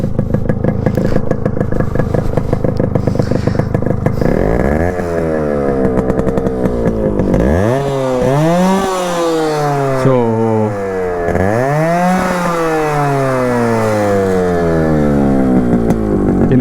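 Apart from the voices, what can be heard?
two-stroke motorcycle engine revving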